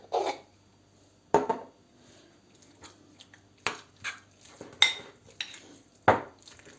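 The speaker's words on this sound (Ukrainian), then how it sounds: "І це все перемішуємо добре." A spoon stirs meat filling in a bowl, making sparse, distinct clinks and scrapes at irregular intervals, separated by quiet pauses, close and fairly crisp.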